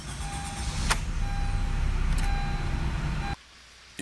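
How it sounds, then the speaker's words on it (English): Recorded car starter engaging, a fast whirring crank that runs for about three seconds under a faint steady tone, with a sharp click partway through, then cuts off abruptly into near silence. "You should get a nice clean starter engagement. It should start the car."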